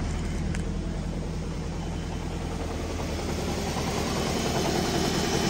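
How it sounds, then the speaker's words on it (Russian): A Volvo V50 1.8 petrol engine, code B4184S11, idles smoothly and evenly with a steady low hum and faint high whine, heard close up and alone. "Двигатель работает ровно."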